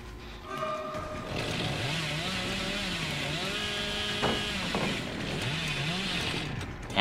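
A revving chainsaw in the horror game Dead by Daylight drones continuously and close, its pitch rising and dipping in repeated surges over a rumbling engine bed, with no talk.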